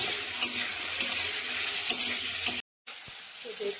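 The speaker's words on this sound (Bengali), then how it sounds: "নাড়াচাড়া করে নেবো। টমেটোর যে ভিতরে পাল্পগুলো ছিল ওগুলো দিয়ে দিলাম।" Tomato pulp stirred and sizzling in a frying pan while cooking soya chilli, a steady close crackle with scraping strokes of a spoon, briefly cut off then resuming.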